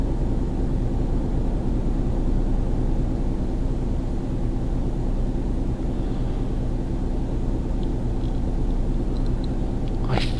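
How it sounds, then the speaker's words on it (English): Heavy, continuous roaring rumble of an airplane landing overhead in Euro Truck Simulator 2, loud and steady throughout, with a brief rising whine at the very end. "The plane landing on the bridge above my head was one clue"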